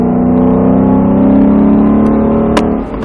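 A Mustang Shelby GT accelerating hard on a track, its engine a loud, sustained close roar that holds a steady pitch before easing off near the end, with no voices over it.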